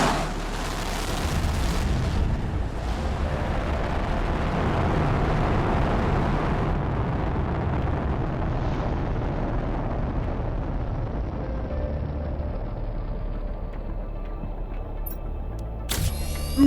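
A rocket launching in the video game Planet Crafter: a loud, sustained rumbling roar that builds over several seconds, then slowly fades into a quieter tail.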